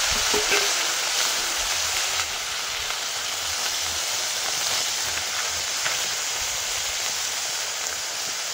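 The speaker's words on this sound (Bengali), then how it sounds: "মাছগুলো ভাজার জন্য কড়াইতে তেল দিয়ে দেবো।" Mourala fish frying in oil in a wok, a steady, close sizzle and hiss that stays dense and even throughout, with no talking.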